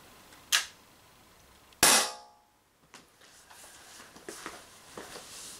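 Single sharp crack of an Umarex HDR50 CO2 revolver running low on gas, fired outdoors near the listener, followed by a decaying ring and faint rustling, with a smaller click or pop shortly before it.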